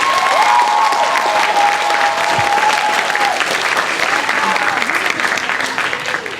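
Audience applause at a middle school band concert, dense steady clapping filling the room for several seconds and tapering slightly toward the end, with a faint tone and murmur underneath.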